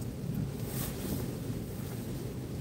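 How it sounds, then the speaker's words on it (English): Strong wind blowing steadily at a beach, roaring across the microphone with low rumbling gusts and a constant broadband hiss, loud and close with no voices. "I know the wind's coming directly from the left now, basically"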